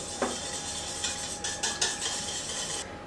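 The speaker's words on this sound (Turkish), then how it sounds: "Bunları güzelce çırpıyorum." Egg, oil and milk are whisked together in a bowl, a utensil scraping and clicking against the sides in a quick, uneven rhythm with a few sharper taps, close and moderately loud.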